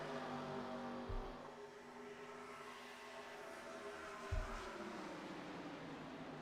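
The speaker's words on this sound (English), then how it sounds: "I'll keep the sound of the cars up, folks." Race cars in a racing video game drone steadily around a superspeedway, a continuous faint engine whine with layered tones and two brief low thumps.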